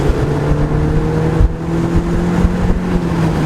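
Engine of a 2002 Audi TT pulling hard under quick acceleration, a steady close-up interior drone with a rising engine tone and road rumble underneath.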